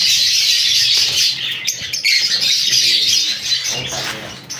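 Many small birds chirp and tweet continuously in a breeding aviary holding dozens of pairs, a dense, bright chorus with occasional wing flutters, close and loud throughout.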